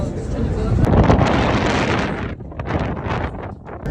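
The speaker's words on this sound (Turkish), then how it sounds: "Hava çok müthiş bir rüzgar var." Strong wind on top of Table Mountain buffets the microphone in a loud, continuous rumbling roar that surges and eases slightly over a few seconds.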